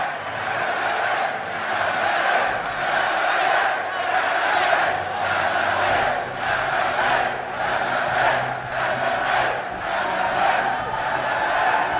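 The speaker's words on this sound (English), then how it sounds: "이렇게 많은 분들이 전생의 챔피언, GSL 챔피언인 문성원 선수를 연호하고 있습니다" Stadium crowd at a StarCraft II GSL event at BlizzCon chanting a champion's name, a loud rhythmic chant with regular pulsing beats roaring continuously through the whole stretch.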